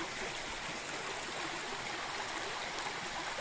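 Water flows steadily over fossil-studded rocks in a forest stream, a continuous close rushing trickle with no voices.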